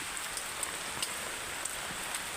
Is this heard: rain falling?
yes